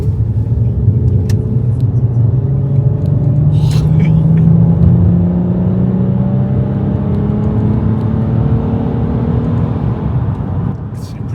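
A Nissan Skyline V35 with a VQ V6 and Fujitsubo exhaust drones loudly and steadily, its engine tone sliding gradually upward as it pulls, with no talking over it.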